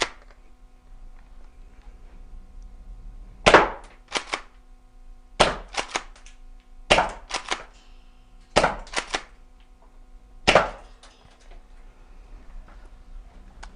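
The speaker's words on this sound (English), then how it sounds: "quick 5 shots through the actual chrono" A FABARM STF/12 compact gas airsoft shotgun powered by green gas, set to three rounds, fires five sharp, close pops through a chronograph, each shot a crisp crack with a quick follow-up click, spaced a second or two apart in a quiet room.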